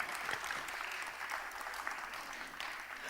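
Sustained applause from an audience at a Kathak dance festival fills the clip, an even, dense patter of many hands clapping.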